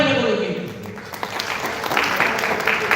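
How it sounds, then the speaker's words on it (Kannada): An audience claps through a village comedy drama performance, with continuous crowd applause that swells toward the end while a voice speaks over it. "ನಾಟಕ ಚಪ್ಪಾಳೆ"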